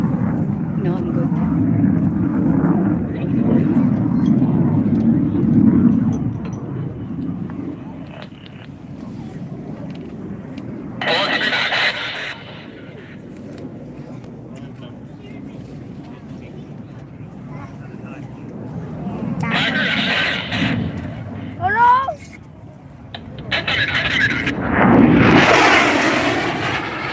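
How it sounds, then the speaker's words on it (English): An F-16 Viper fighter jet performs at the Arctic Thunder 2022 air show in Anchorage, Alaska, its engine producing a broad rumbling roar that swells and fades, with brief higher whooshing bursts and a crowd talking nearby. "demonstrate the F-16's ability to maneuver tightly and stay unpredictable"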